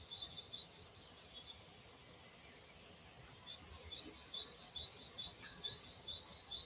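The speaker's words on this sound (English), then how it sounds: "I like just hearing the birds" Faint, high chirping birdsong repeats in short bursts over a soft background hiss, growing a little busier toward the end.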